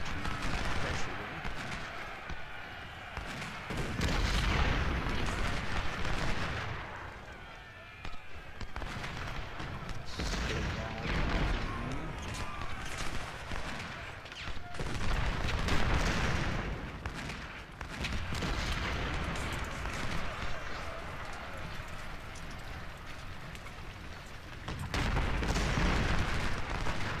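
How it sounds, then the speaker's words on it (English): Sustained gunfire and booming artillery from a Civil War battle in the Ultimate General strategy game, dense volleys and rumbling blasts rolling continuously with brief lulls, loud and layered. "We want to be firing at those guys."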